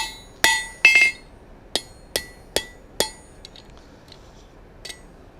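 Hot steel is flattened on an anvil with about eight sharp, ringing hammer blows in an uneven rhythm, close and clear, followed by faint lighter taps as the ringing fades.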